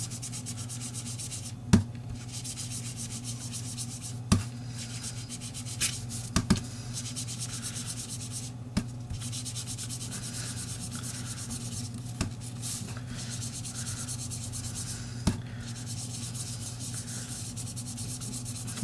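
A Stampin' Sponge rubbed over paper edges to apply ink for a card, a soft, steady scratchy rubbing close up with a few sharper taps and no voices.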